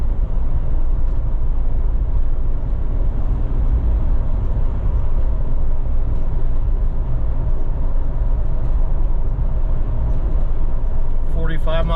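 Road noise from Kanati Terra Commander RTX tires while driving along a stretch of road, a steady low rumble and hum from inside the vehicle, continuous and fairly loud, with a brief rattle near the end.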